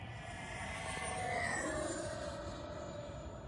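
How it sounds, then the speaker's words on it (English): An FMS Futura RC model jet, upgraded with a new ESC, makes a high-speed pass, its electric ducted-fan whine swelling and then easing as it sweeps by at a distance. "All right, high speed pass."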